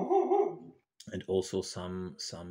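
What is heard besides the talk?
dog barking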